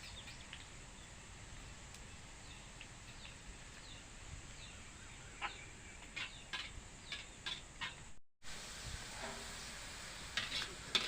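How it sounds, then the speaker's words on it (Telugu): Grated potato frying in hot oil, a faint steady sizzle under a scatter of stirring clicks and scrapes, with a brief cut near the end. "నూనె కాలింది ఆలుగడ్డ తురుము నూనెలో వేసుకోవాలి"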